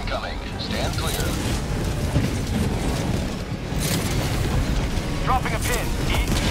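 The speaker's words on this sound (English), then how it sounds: "Orbital barrage incoming. Stand clear." Orbital barrage explosions in the Helldivers 2 video game boom in a loud, sustained chain of deep blasts and crackling debris, mixed with talk.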